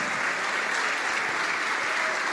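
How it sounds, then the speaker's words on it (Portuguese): A church congregation applauding together, a dense, steady wash of clapping that stays at an even level from start to finish with no voices standing out. "Oh glória, vamos aplaudir mais."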